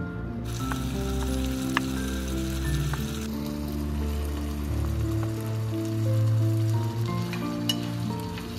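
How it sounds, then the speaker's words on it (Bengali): Food sizzles steadily in a kadai (wok) over a mini kitchen setup, a continuous close, moderately loud frying crackle with no talking. "কড়াইতে কেমন জাল হচ্ছে শোনা?"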